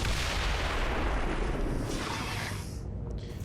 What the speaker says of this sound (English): And then firing on the Claymore.